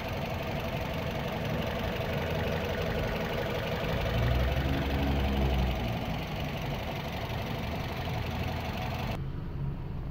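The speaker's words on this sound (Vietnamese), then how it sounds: "Máy nổ rất là êm." A Toyota Vios sedan's engine idles smoothly and steadily up close, a low continuous hum that rises slightly in the middle before settling, with no talk over it.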